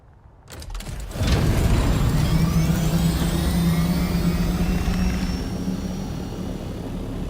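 Scout ornithopter flying in the video game Dune, its steady droning engine rising sharply after a brief quiet start, then holding loud with a whirring tone and easing off slightly.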